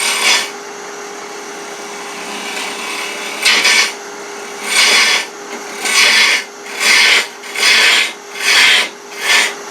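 A turning tool cutting a wooden mallet on a wood lathe, a loud close scraping hiss over the lathe's hum that swells into regular repeated passes as the tool sweeps back and forth, with no talk.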